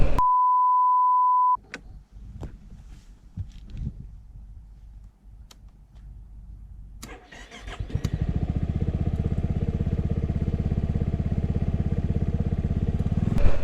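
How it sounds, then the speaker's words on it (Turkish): Yamaha XMAX 250 scooter with a low battery being started: a steady electronic beep, then starter cranking that struggles for several seconds before the engine catches and settles into a loud, continuous close-up running note, with no talk. "motoru çalıştırmaya çalışırken zaten düşük bataryadan dolayı zor çalıştı motor"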